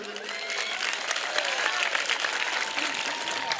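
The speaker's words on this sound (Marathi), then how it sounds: "जोरदार टाळ्या वाजवा म्हणलो मी" A large audience at a live public speech bursts into dense, sustained applause, loud and continuous with crowd noise underneath throughout.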